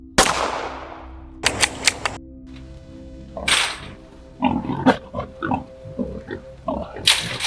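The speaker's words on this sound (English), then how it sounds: "If hogs are caught, they're dispatched humanely with a well-placed shot." A single sharp, loud gunshot rings out at a trapped wild hog, and loud squealing and grunting hogs follow close by in repeated bursts.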